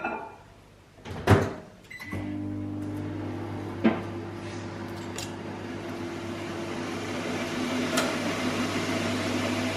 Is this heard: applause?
no